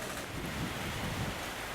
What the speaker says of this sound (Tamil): திருவண்ணாமலை மாவட்டம் வந்தவாசி சுற்று வட்டாரத்தில் மிதமான மழை பெய்து வருகிறது